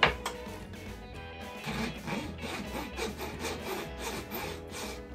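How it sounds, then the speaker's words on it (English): A bevel file rasps along guitar fret ends in steady, close back-and-forth strokes, soft and rhythmic with no talking. "Going to use the bevel file the same way."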